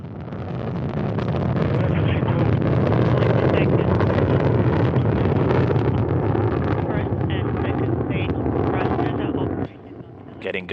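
A Soyuz rocket launches on four strap-on engines around its core, giving a loud, sustained, broad roar that swells and holds steady, then drops off sharply near the end.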